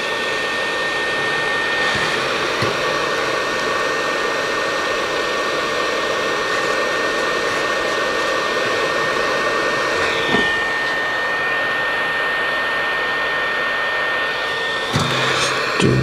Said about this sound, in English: I'm just gonna heat this chip up until the solder starts to flow again.